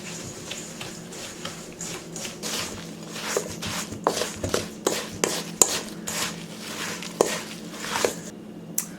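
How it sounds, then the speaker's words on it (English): Cut rhubarb pieces of about half an inch are tossed and mixed in a bowl for a rhubarb crisp, giving soft irregular clacks, taps and squishy rustles close up, with no talk. "We're just going to mix this up really good."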